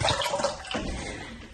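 Water from a bottle pours into a pot on a stove top, a close, continuous splashing gush that tapers slightly over its short length.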